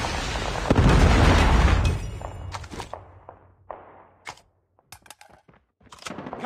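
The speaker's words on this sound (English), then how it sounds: "Predator missile inbound." A predator missile strike in the mobile shooter COD Mobile, a loud booming explosion with a long rumbling roar for about two seconds, followed by scattered sharp bursts and gunfire-like pops.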